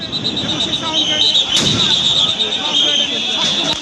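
A police sound grenade goes off at a street protest by workers demanding a pay scale, a loud sharp blast near the middle of a dense, noisy crowd din with shouting voices throughout.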